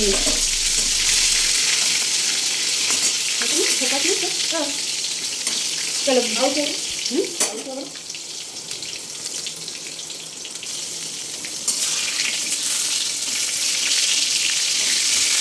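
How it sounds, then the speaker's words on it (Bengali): Eggplant and pointed gourd fry in hot oil in a wok, giving a steady broadband sizzle that runs the whole time under brief bits of casual talk. "এখন ভাজবো হচ্ছে বেগুন পটল তার জন্য দিয়ে দিলাম কড়াইতে তেল"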